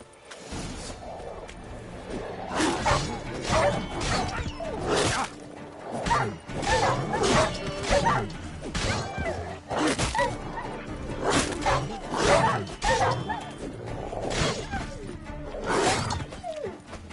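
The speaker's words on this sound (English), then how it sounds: "it looks like we have some dogs here" Dogs bark and yip repeatedly in The Witcher video game, a string of sharp, loud barks in irregular bursts across the whole stretch, with crashing impacts mixed in.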